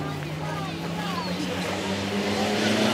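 An Austin Healey racing car at the Alford Speedfest track, its engine droning steadily and rising slightly in pitch as it passes, with a commentator talking over it.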